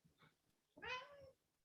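A single drawn-out meow from a house cat, close and clear against a quiet room, preceded by a couple of soft, faint chirps.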